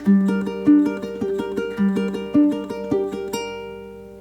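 Plucked ukulele notes of a minor chord picked in quick repeating triplet groups, bright and close, with a steady rolling rhythm and no voices.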